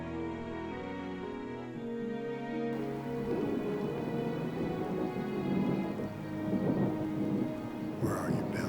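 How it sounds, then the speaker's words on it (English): Low thunder rumbles and rolls beneath the steady hiss of heavy rain, a sustained storm with no voices. "Looks like a storm's coming, guys."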